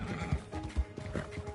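A horse in Red Dead Online whinnies briefly amid soft clip-clopping hooves, close and fairly loud, with no talk.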